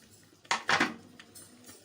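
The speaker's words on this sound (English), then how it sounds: "so you stir this to combine" Spoon clattering against a pot as bitter leaf is stirred into soup, a few close metallic scrapes and knocks in quick succession, then quieter, with no talking.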